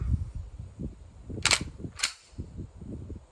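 An everyday carry handgun being cleared for a chamber check: two crisp metallic clacks of the slide about half a second apart, close and distinct, over faint room noise.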